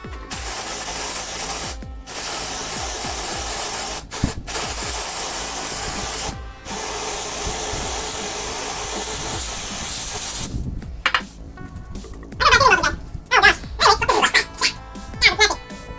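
Air duster spraying to freeze an object: several loud, sustained hissing blasts broken by short gaps, then sputtering, irregular bursts as the spray falters toward the end.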